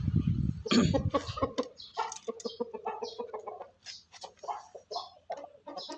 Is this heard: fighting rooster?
yes